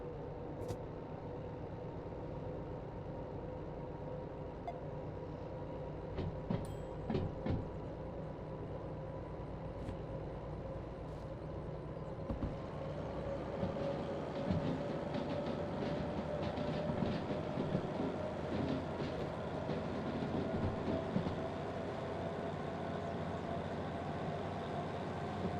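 Train locomotive slowly reversing in the railway simulator game Derail Valley, a low steady engine drone with clanks and rail clatter that grow louder in the second half, with no talking.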